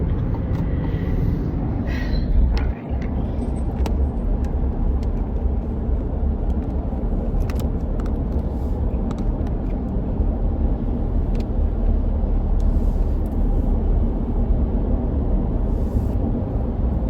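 An Acura ZDX accelerating hard, with a steady, loud broadband engine and road roar that holds throughout without a break.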